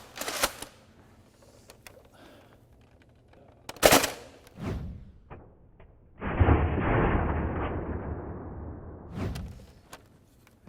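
Several sharp gunshots ring out, spaced seconds apart, at a butterfly in a physics lesson animation, with a longer rushing, whooshing burst between the later shots.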